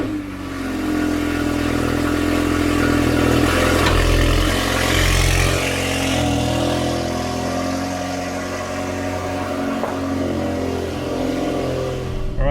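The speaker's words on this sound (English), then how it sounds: "We'll get a cold start in because this thing is very noisy." Cold start of a Stage 2 VW MK8 Golf R, 430 PS: the engine fires and flares loudly, then settles into a high, rumbling idle that slowly eases down in pitch, close and alone.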